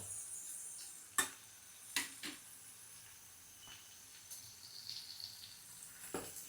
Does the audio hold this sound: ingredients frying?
yes